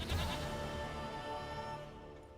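A goat bleats in the video game The Witcher 3: one long, wavering bleat, loud and close, trailing off over about two seconds, with no talking.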